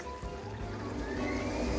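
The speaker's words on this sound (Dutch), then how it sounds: "Een bubbelbad" Bubbling water churning in a hot tub on an island, a steady close gurgling wash that grows a little louder toward the end.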